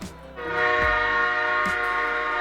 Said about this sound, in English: God, that train station must be next door or something. Too damn loud if you ask me.